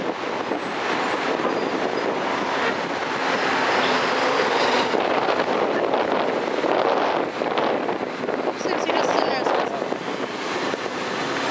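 A train rolls past on the rails with a continuous rumbling roar that swells midway, heard close up with wind buffeting the microphone.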